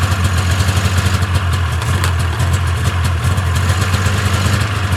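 A small engine idles steadily with a fast, even chug, loud and close, no voices.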